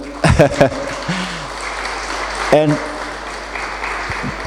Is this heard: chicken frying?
no